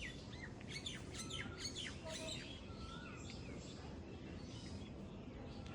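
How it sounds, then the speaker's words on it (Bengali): Birds near a tree on a misty spring morning chirp and squawk in quick, scattered bursts, moderately close, over a steady rushing background hum. "কি সুন্দর পাখি ডাকতেছে"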